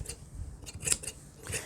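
Tailor's shears cut through the top layer of tweed fabric while bespoke trousers are being cut, giving a few crisp, close snips in quick succession.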